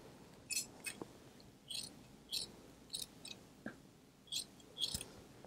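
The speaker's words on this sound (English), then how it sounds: "My scissors are never happy when I make them cut Dacron." Scissors snipping through Dacron upholstery batting on a barrel back chair, a string of about eight quiet, crisp cuts at irregular intervals in a hushed room.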